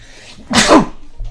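A single loud, close sneeze bursts out, a short sharp explosive puff of breath, with quiet background before and a faint thump just after.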